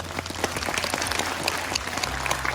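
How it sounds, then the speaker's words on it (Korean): Students and guests applauding one another at an entrance ceremony of an agricultural and fisheries college in Jeonbuk, a full, continuous burst of crowd clapping heard close, with low room rumble beneath. "입학 축하한다고 서로에게도 박수 한번 보내주십시오"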